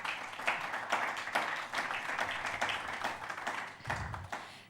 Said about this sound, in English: let's start by giving them a warm round of applause as we appreciate them